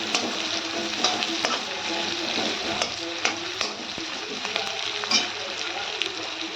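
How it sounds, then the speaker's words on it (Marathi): Sliced onion frying in oil in a kadhai over a low flame, with a steady close sizzle and occasional sharp pops and stirring scrapes, continuous throughout. "कढईमध्ये तेल टाकून त्या तेलामध्ये एक मोठा उभा कांदा हा उभा चिरून अशा पद्धतीनं तळून आहे"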